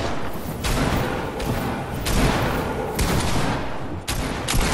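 Pump shotgun blasts in the Fortnite video game ring out in a quick series of about five loud, sharp reports with short gaps between them, over continuous game noise.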